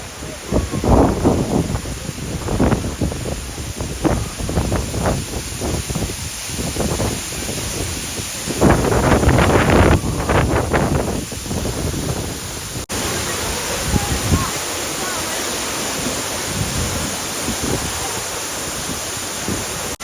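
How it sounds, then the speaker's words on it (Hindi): An African waterfall roars as a continuous broad rush of falling water, with heavy wind buffeting the microphone and some voices mixed in during the first half. "ये वाटरफॉल देखिए कितना सही लग रहा है यार, एक नंबर लग रहा है"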